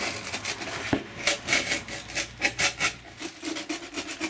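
A knife cuts through cured foam edges on a homemade kayak seat, producing repeated close scraping and rasping strokes in an uneven rhythm, with no talk.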